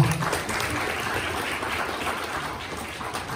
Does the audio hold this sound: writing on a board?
no